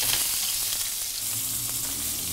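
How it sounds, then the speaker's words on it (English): Tuna seared in olive oil in a hot pan, a steady, close, loud sizzle and crackle of frying that holds evenly throughout with no talking. "So, hot pan. Simple, olive oil, tuna. We're just gonna sear it off."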